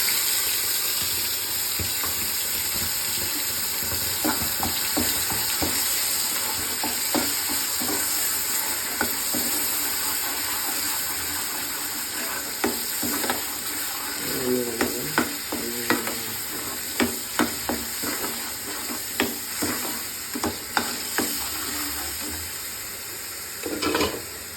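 Soya chunks curry masala frying in a pan, a steady sizzle with scattered stirring clinks and scrapes growing busier toward the end, close and moderately loud with no talk.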